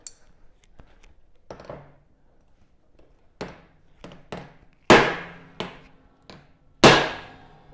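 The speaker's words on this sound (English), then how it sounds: "You just need to tap this head to get it so that it fully seats against the wood" A hammer taps a screw head down into a wooden nest box board, landing about a dozen sharp, ringing knocks at irregular intervals, the loudest strikes near the end, close and with no talking.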